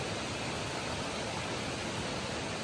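A distant waterfall near a cave in Meghalaya roars in a steady, dense wash of noise with no breaks and no voices.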